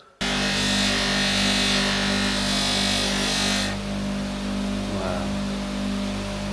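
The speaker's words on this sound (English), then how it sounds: "I think it's time to get that on the buffing wheel and have a look" A buffing wheel whirs steadily as it polishes a canvas micarta handle on a small carbon steel knife, a loud, continuous hum that starts abruptly and drops slightly in pitch partway through.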